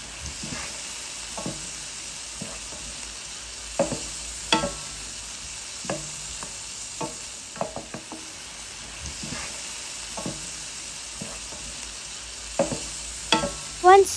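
Luffa and egg stir-frying in a pan with spring onion, a steady sizzle broken by repeated scraping and clinking strokes of the spatula at an uneven rhythm, close and clear.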